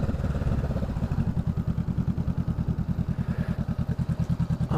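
A Honda CMX 500 motorcycle engine idling close by with a steady, rapid low thumping pulse, alone without talk, as the bike is ridden and brought to a stop to park.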